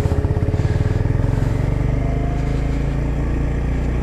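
A 2025 Honda GB350S single-cylinder motorcycle idles up close and loud, its steady low thumping pulse settling into a smoother even rumble with no voices.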